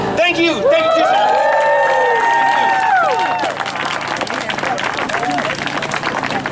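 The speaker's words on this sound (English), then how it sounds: "let's have another round of applause for Mr. Brown" Audience applause and cheering for Mr. Brown at an event in Tucson, a dense sustained wash of clapping with whoops and shouting voices riding over it, loud and close throughout.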